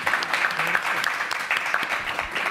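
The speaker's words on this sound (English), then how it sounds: "Let's give them a round of applause." An audience at a brand storytelling conference session gives the speakers a round of applause: dense, steady clapping with crisp individual claps popping out, sustained and fairly loud throughout.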